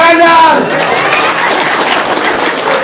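A studio audience at an Indonesian talk show breaks into applause, a dense, loud wash of clapping with a brief vocal tone at the start, sustained for a few seconds.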